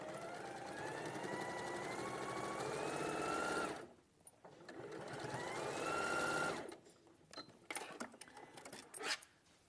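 A sewing machine stitching a quarter-inch seam on a quilt block runs in two steady, loud bursts of rapid whirring with a short pause between, then stops into quieter handling clicks and rustles.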